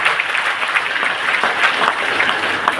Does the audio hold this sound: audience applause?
yes